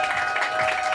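A crowd at a French street-dating show in Bordeaux applauds loudly, a brief continuous burst of clapping and cheering.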